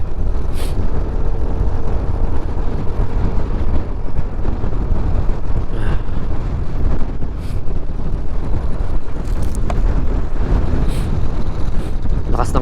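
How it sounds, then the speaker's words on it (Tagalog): Strong wind buffets the microphone during a motorcycle ride on a road journey across the Philippines, a constant loud low roar filling the whole stretch with no clear speech. "The wind is so strong."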